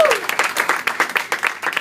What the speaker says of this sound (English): Give a big applause here, right?